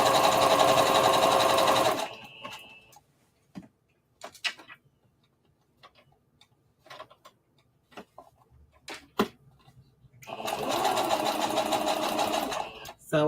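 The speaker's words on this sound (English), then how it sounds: "So I let the sewing machine get away from me." A sewing machine runs fast and loud while stitching a circle dress, with two long bursts of continuous needle hum separated by a quiet stretch of small clicks and handling taps.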